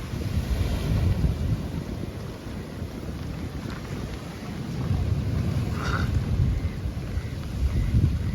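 Sea waves wash onto the shore at Satpati beach near Mumbai in a steady roar, swelling louder at times, with gusts of wind buffeting the microphone. No one speaks.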